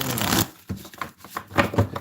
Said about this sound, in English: Okay, last shuffle.